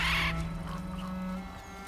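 A bird squawks briefly at the start in the God of War video game, then fades into a steady low droning game ambience.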